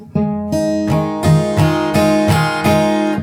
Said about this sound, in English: which is the strumming that leads into the second chorus